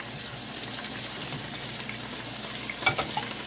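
Tomato, green chillies and crushed garlic sauté in hot oil, a low continuous sizzle close by, with a few louder stirring scrapes and clacks near the end and no speech.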